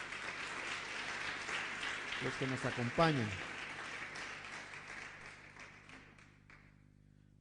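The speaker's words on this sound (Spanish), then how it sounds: "¿Qué les parece si le damos un aplauso a todos" A church congregation gives soft, sustained applause during a service, with a voice speaking over it in the middle before the clapping fades out near the end.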